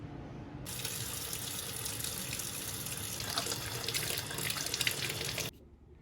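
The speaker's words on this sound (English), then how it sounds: "Always start by washing your hands." Water runs steadily from a kitchen tap as hands are washed before making pizza, a loud continuous hiss that starts abruptly, holds for about five seconds, then cuts off.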